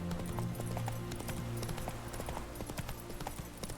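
Roach, a horse in the video game The Witcher 3, trotting with a steady rhythmic clip-clop of hooves, soft and fairly faint.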